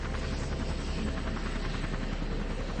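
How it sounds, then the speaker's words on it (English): A Huey helicopter flies in the distance over icy terrain, heard as a steady rhythmic rotor thump and droning buzz at moderate level with no talk. "Sounds like a Huey."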